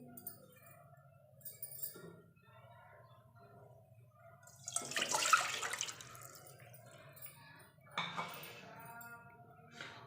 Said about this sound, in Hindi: अब इसके अंदर 2 कप मैं पानी डालूंगी।